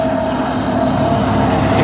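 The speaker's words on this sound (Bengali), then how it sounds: "এখানে রাস্তার ওপর দিয়ে ট্রেন চলে।" A train runs along a track beside a road near a rose garden in Murshidabad, a steady close rumble with a faint rail hum that stays constant for the whole stretch, no voices.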